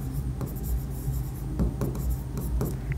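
Marker writing a table on a classroom board, close and clear, with short squeaky strokes and taps in an uneven rhythm over a low background hum.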